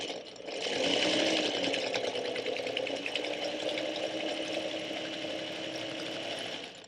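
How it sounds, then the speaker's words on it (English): Sewing machine running steadily while stitching a quilt block, a continuous close, fairly loud mechanical whir with rapid needle clatter that holds for several seconds without talk. "Then I'm going to take this to my sewing machine and I'm going to stitch just one thread to the right of that line"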